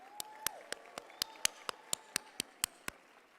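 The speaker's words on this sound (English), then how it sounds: "Another bigger round of applause for our" At a university graduation ceremony, claps for the UJ multi-award-winning choir come as a faint, evenly spaced series of about a dozen sharp beats in a steady rhythm, with a soft sustained tone underneath.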